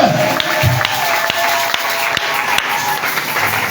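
A church congregation breaks into loud, sustained applause and crowd noise during a French-language sermon, the clapping filling the room from start to finish with a few sharper claps standing out.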